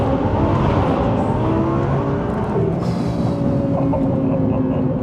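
A loud, steady tuned turbocharged engine of a 1270 hp Audi TT drones at close range, a high turbo whistle riding over the low rumble throughout.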